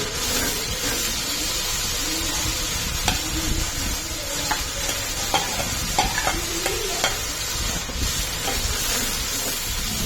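Masala with ginger garlic paste for aloo pulao sizzles and fries in a pot while a spoon stirs and scrapes through it, a loud steady hiss with intermittent clinks, close up and without talk.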